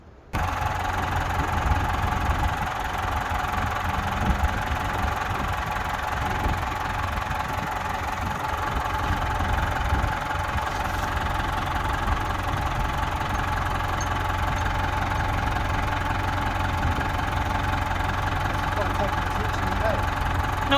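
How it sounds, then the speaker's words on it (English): Tractor engine catching after a short silence, then settling into a steady, rumbling idle with a knocking, vibrating chug that runs on unchanged for about twenty seconds. "should we fire up the tractor and see what we can do?"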